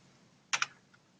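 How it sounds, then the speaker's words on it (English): Keys clack on a computer keyboard, a quick pair of loud close taps followed by a fainter stroke or two over low room noise. "So I'm actually going to type up what I wrote down"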